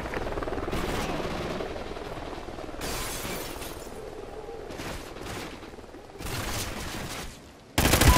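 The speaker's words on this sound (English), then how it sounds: "Friendly chopper inbound." A helicopter flies over a Call of Duty Ghosts multiplayer match, its rotor drone steady under repeated bursts of gunfire and crashing impacts, with a louder blast at the very end.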